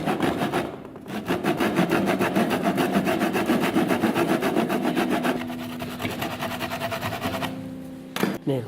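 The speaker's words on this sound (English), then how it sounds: "using that top there as your guide, you're going to then cut off those little points." Hand saw cutting the small points off a workpiece clamped in a vise, while making a pulley for a generator test; steady close rasping back-and-forth strokes run continuously, easing near the end.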